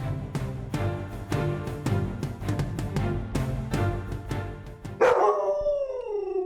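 A pet dog barks in a steady run of sharp, fairly close barks, ending in a drawn-out howl.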